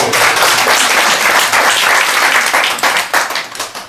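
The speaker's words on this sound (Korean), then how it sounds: "자, 박수 한번 쳐주세요." A lecture audience breaks into loud, close applause, dense clapping from many hands that stays strong, then turns patchier and fades in the last second.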